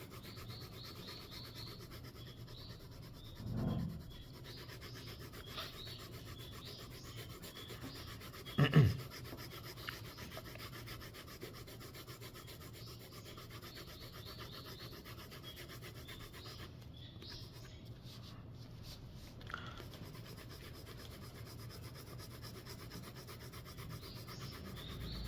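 Coloring is rubbed onto paper during drawing, a faint continuous scratchy rubbing with a couple of louder brief strokes, quiet and close with no speech.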